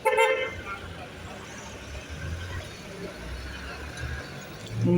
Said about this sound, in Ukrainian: подивитись, які тут машини їздять